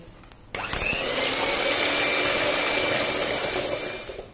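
An electric hand mixer whips egg whites for Turkish coffee macarons, starting abruptly with a clatter and then holding a steady, close whirring drone with faint beater rattle, with no speech.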